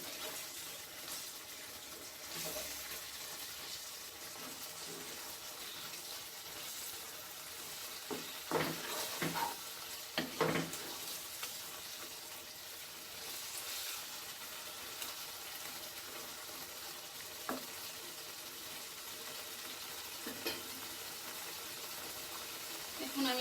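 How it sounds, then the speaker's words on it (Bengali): Spice masala fries in a pan for a rajma prawn curry while being stirred, a low, steady sizzle with scattered scrapes and clinks of the spoon. "নেড়ে ছেড়ে ভালো করে মিক্স করে দিতে হবে। যাতে মশলাটা ভালো করে কষে।"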